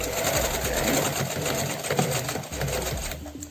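A home sewing machine runs steadily, stitching across a zipper while sewing a zipper pouch, its close, continuous mechanical whir and rapid needle rhythm filling the whole stretch with no talk.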